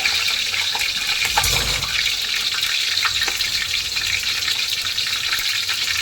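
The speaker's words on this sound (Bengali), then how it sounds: "বিরিয়ানিতে আলু দেওয়ার জন্য আমি আলুগুলো ভেজে নিলাম।" Potatoes fry in hot oil for biryani, a loud, dense, continuous sizzle with a faint low rumble and occasional crackles, no voices.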